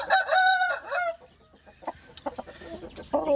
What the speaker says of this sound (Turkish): Bu benim Karadayı lakaplı horozum.